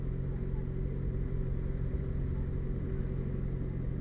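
Steady, close engine rumble and wind roar from a Yamaha XJ6F motorcycle being ridden, a constant low drone without clear changes in pace.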